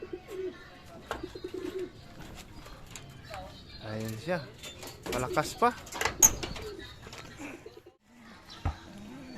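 Soft racing pigeon cooing and a brief flutter of wings near at hand as the bird returns from a race, with someone talking over much of it.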